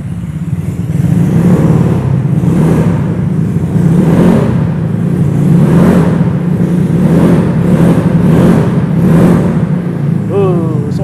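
An Italjet Dragster scooter with a bored-up engine revs repeatedly at low RPM, loud rhythmic surges rising and falling about once a second, with a brief voice at the end.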